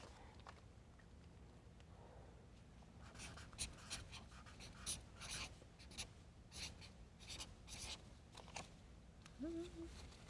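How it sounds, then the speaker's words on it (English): Pencil scratching across paper in bursts of short strokes, fairly close and quiet, with brief pauses between words being written and faint background noise. "grab your pencil and paper and write it down again."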